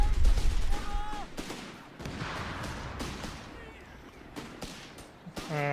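Machine gun fire in a Company of Heroes 3 tournament match, bursts of rattling shots and distant battlefield booms scattered through the stretch, mixed under game ambience and occasional voices.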